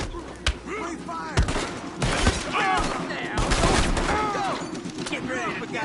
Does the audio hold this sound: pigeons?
no